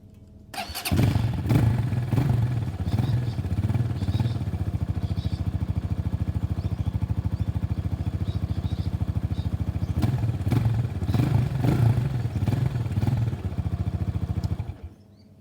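A small motorbike-style engine on a Rover 46-inch zero-turn mower fires up and idles steadily with a rapid even putter, close and fairly loud, with a couple of short revs near the end before cutting off.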